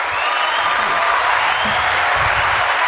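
An audience claps steadily and densely for a guest throughout, a loud continuous wash of applause with faint voices beneath.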